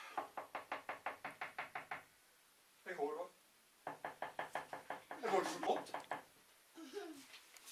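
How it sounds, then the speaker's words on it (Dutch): Sharp wooden knocks on a door in a theatre performance, fast runs of about eight raps in quick succession with pauses, alternating with animated voices talking. "Er wordt geklopt."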